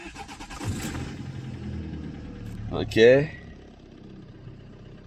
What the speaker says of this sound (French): là je vais démarrer la voiture